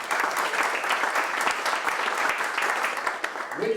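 A live audience applauds steadily for nearly four seconds, a dense, loud wash of clapping at an event supporting the DC voting rights bill, easing slightly just before the end.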